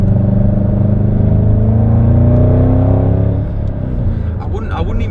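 A 2011 Ford Shelby GT500 engine roars loud and close as it pulls hard after shifting into second gear, its pitch rising steadily before the throttle eases, with a voice over it.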